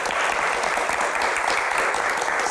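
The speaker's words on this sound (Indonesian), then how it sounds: "tepuk tangan" An audience at a televised Indonesian Q&A program applauds in a dense, continuous burst, many hands clapping loudly and evenly throughout the short stretch.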